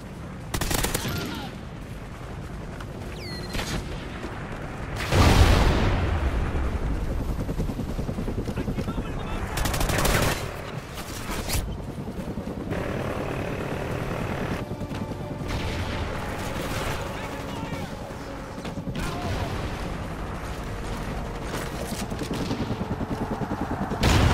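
In Call of Duty Ghosts, a supporting helicopter's rotor drones through a firefight, with bursts of rapid machine-gun fire and a few loud blasts around five and ten seconds, while voices come through over the action.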